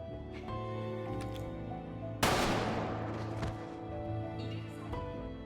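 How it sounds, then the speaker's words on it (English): Gunshots echo across an outdoor game area as time runs out, with one sharp, loud crack near the midpoint followed by a long echoing tail over a quieter sustained music bed. "As the time runs out, gunshots echo across the area."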